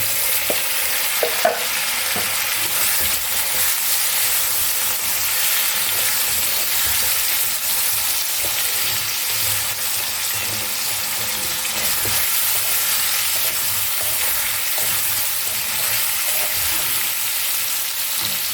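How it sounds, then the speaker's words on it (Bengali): Pre-boiled chicken stir-fried with fried spices for soup, a loud, continuous sizzle with frequent scraping stirs and occasional clinks of a spatula throughout. "এবার আমি এর মধ্যে সিদ্ধ করে রাখা মাংসটা দিয়ে দিলাম"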